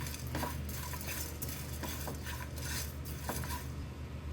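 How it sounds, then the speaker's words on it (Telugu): Ajwain and crushed dry ginger fry on a low flame: a steady soft sizzle runs throughout, with a few scraping stirs of a spoon against the pan. "హాఫ్ టేబుల్ స్పూన్ వాము హాఫ్ టేబుల్ స్పూన్ వరకు కొద్దిగా క్రష్ చేసి పెట్టుకున్న సొంటి అంటే డ్రై జింజర్ వేసేసి వీటన్నిటి కూడా మంచి ఫ్లేవర్ వచ్చేంత వరకు లో ఫ్లేమ్లోనే ఫ్రై చేసేసుకోవాలి"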